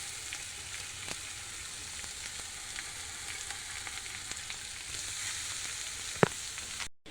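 Beetroot and carrot with grated ginger fry in a pan, giving a steady, close hiss of sizzling oil for several seconds with a few scattered crackles and a sharp pop near the end, and no voices.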